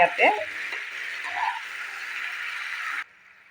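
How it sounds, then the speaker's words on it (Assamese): Raw jackfruit with spices sizzles steadily in a hot pan while being stirred, with a few scraping clinks of a utensil near the start, then quiets abruptly. "এইখিনি মই মছলাৰ সৈতে ভালদৰে লাৰি ল'লোঁ।"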